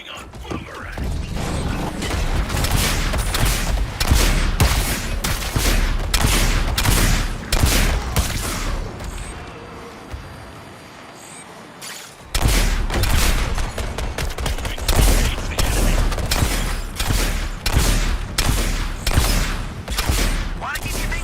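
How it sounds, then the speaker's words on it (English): Dense, rapid gunfire fills a battle in the video game Suicide Squad Kill the Justice League, loud sustained bursts of shots with mechanical clatter, broken by a brief quieter lull midway before the barrage resumes, with character voices speaking under it. "Firing on Boomerang"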